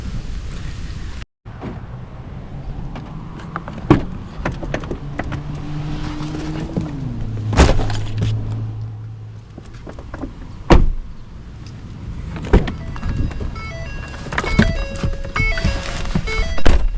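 Someone climbs into a pickup truck after a trail walk: several solid door thumps and clunks, a brief whirring motor sound, and rustling movement inside the cab, close and fairly loud, with no talking.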